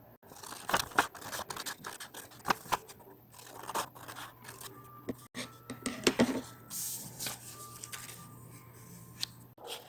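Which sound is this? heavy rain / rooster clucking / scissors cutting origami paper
scissors cutting origami paper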